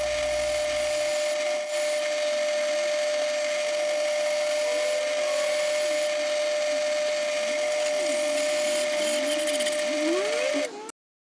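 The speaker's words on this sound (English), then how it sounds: "the drill press is optional, but it helps, especially when we're drilling almost 11mm size holes" A drill press grinds steadily through quarter-inch steel plate, drilling holes of almost 11mm, a constant high mechanical whine with a rough, scraping edge that runs unbroken for several seconds before stopping abruptly.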